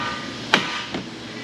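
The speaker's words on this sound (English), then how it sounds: "And a couple impacts right here on the knuckle." Two hammer blows against the steering knuckle of a 2010 Honda Civic Hybrid 1.3 CVT, a sharp ringing strike followed by a softer second one, heard up close over steady background hiss.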